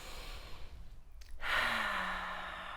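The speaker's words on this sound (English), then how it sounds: "So we're just going to take a moment to just take a couple of really deep breaths and just listen to our breath" A single slow, deep breath drawn in and let out, soft and close in a quiet room, the exhale a long airy sigh.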